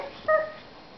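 A small child answers with a quick, high-pitched imitation of a dog's bark, a single short yip voiced softly in a quiet room.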